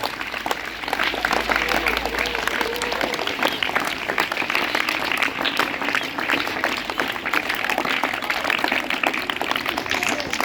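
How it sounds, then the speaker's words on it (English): Dense, continuous applause from a school audience at a junior-group Diwali and Chhath Puja celebration, many hands clapping steadily and fairly close throughout. "Clap your hands, give a huge round of applause."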